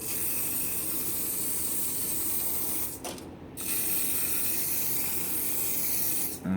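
Hairspray coats the heated bed of a 3D printer in a long, loud, continuous aerosol hiss close to the microphone, stopping briefly midway before resuming steadily to the end.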